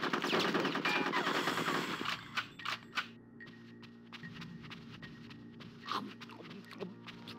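Bursts of video game gunfire from Conker's Bad Fur Day's war level: a dense rattling volley at first, then scattered single shots and short bursts that fade into a quieter background of game noise.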